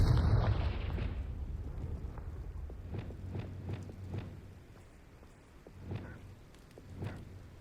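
A rumbling fiery blast from the Confringo spell in the Hogwarts Legacy game opens loud and booming, then fades into a series of fainter thuds and crackles.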